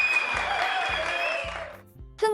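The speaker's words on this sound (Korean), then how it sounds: "한 박수 주세요." Audience applause in a comedy segment, a steady burst of clapping with a bright tonal jingle layered over it, cutting off abruptly before a short sound-effect sting.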